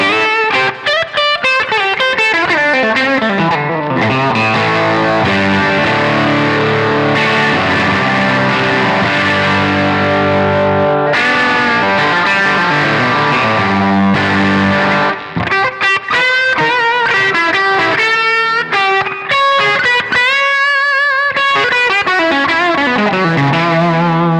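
A heavily distorted Gibson Gary Moore BFG electric guitar on both pickups plays sustained chords and riffs, loud and saturated, with a brief pause before faster picked notes.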